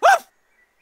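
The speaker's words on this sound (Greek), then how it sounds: "Αυτός είναι ο σκύλος μου, ο Μπλεδούλης." A single short, bright bark from a cartoon dog, loud and close, followed by silence.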